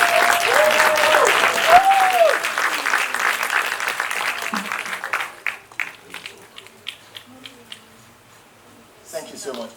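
Audience applause at a business clinic event in Lagos, a broad wash of clapping that fills the first half, then thins into scattered claps and fades, with a brief swell near the end and some voices mixed in.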